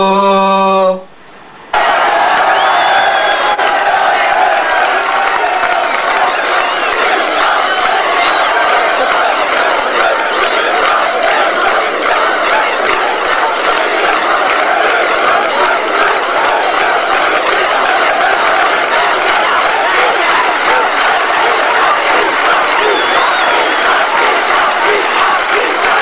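A large crowd at an outdoor public celebration claps and cheers in a dense, steady roar that continues unbroken for about twenty-five seconds, following a brief tone at the very start.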